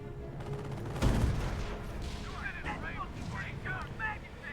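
A Panzerfaust fires in Company of Heroes, a heavy booming launch near the start of the clip, followed by battlefield rumble and scattered distant fire under ongoing game noise.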